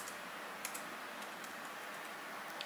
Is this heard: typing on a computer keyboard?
yes